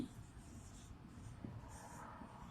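Soft scratchy writing strokes come from a pen labelling the axes of a graph, a quiet continuous rasp with a few light taps, close by and free of speech.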